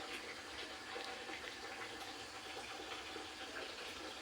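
Tap water running steadily after the supply came back, a soft continuous splashing stream at low level with faint clatter, no voices over it.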